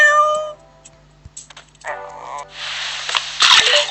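A cartoonish cat meows loudly in the video game Kitty in the Box, followed by shorter mews and bursts of noisy game effects, with someone talking over the effects.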